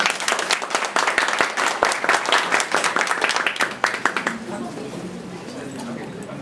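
A seminar audience at a PPI Shizuoka education event claps to welcome the guest speaker. Lively, close applause lasts about four seconds and then drops away into quieter room noise.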